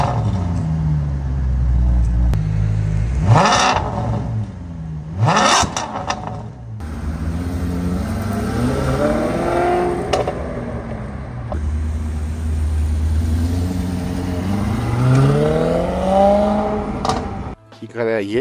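A Maserati Quattroporte engine revs up and down several times, rising and falling in pitch, loud and close, with a steady low rumble between revs.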